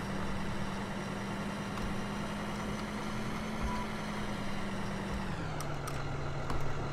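Tractor engine in Farming Simulator 2013 running steadily with a constant low drone, then the pitch drops and settles near the end, a continuous mechanical hum with a few faint clicks.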